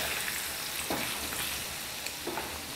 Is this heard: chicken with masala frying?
yes